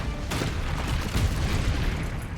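A Confringo fire spell exploding in Hogwarts Legacy on PS5, a burst of several booming blasts over about two seconds, loud and close.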